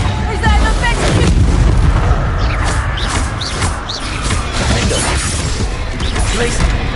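Spell blasts from a Harry Potter video game duel, a Reducto blasting spell among them, land as dense, loud booming impacts and crashes that run continuously with busy game music and effects underneath.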